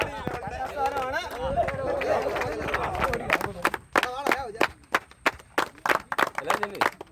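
An audience claps to cheer a team at a match, starting among chatter and crowd noise, then breaking into loud, distinct claps in a quick uneven rhythm as the talk fades.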